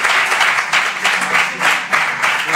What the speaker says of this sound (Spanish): Personas aplaudiendo